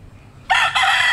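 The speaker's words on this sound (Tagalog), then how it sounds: "Ayan sila oh, kabuuan ng mga manok ko." Tagalog gamecocks crowing among chickens, a loud close rooster call starting midway that breaks briefly and then carries on, over a faint low farmyard background.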